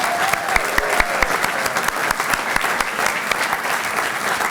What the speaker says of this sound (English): So if we can get a big round of applause for him also.